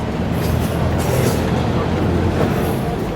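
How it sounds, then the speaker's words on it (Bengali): A Mahananda Mail train pulls away from platform 2 at Poradah Junction with a steady, close, low rumble and faint rattling throughout, and no single sound standing out. "এটা হচ্ছে পোড়াদাহ জংশনের প্ল্যাটফর্ম নাম্বার 2 থেকে আমাদের এই মহানন্দা ট্রেনটি ছেড়ে যাচ্ছে"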